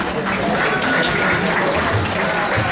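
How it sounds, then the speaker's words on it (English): Sustained crowd applause fills a Vyasa Puja celebration honoring a Hare Krishna swami, a steady dense patter of many hands clapping together without pause. "So a huge round of applause for them as well"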